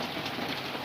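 Heavy rain pours at night outdoors where rabbits are being fed, a brief dense wash of drops drumming on surfaces, steady and close with no talk.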